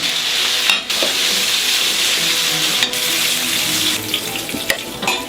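Onions, bacon lardons and mushrooms fry in a pan for a beef bourguignon garnish, giving a loud, steady, close sizzle. Scrapes and clatters of stirring cut through it now and then, with no voices.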